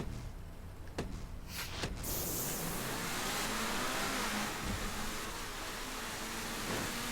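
A powerful Infernus supercar engine in GTA 5 roars at a snowy race start, a sharp burst of revving giving way to a loud, sustained high-pitched acceleration that holds steady and close.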